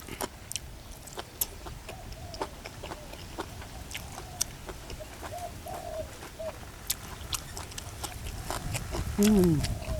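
Doves coo in a rural outdoor setting, a brief low cooing call near the end over a steady background of birdsong, insects and occasional clicks, with people talking nearby.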